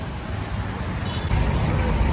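Dense road traffic rumbles on a Navi Mumbai street during a Ganpati festival opening, a steady low engine drone with a heavier vehicle swelling closer near the end.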